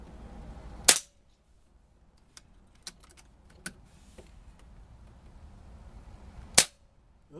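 Two sharp rifle shots fired at a target, one near the start and one near the end, with faint clicks and light handling noises between them in an otherwise quiet outdoor setting.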